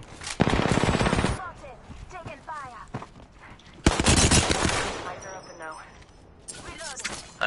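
Loud automatic weapon fire in Apex Legends, two long rapid bursts of close shots separated by a few seconds, then a short third burst, with a player talking in between.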